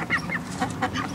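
Several ducks on a public lake in France quack and honk over steady outdoor background noise, with a few close calls in quick succession.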